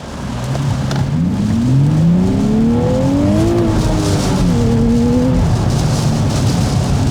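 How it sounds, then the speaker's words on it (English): A 2023 Civic Type R or Nissan 400Z accelerates hard from a street launch, the engine note climbing steadily through the revs with a shift near the middle, loud and close throughout with no talk. "let's do a quick acceleration check here"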